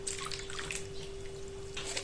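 Lukewarm water, about 130 grams, poured into a large bowl for yeast dough, a soft continuous trickle and splash with no talking.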